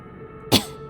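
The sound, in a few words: choking gasp for breath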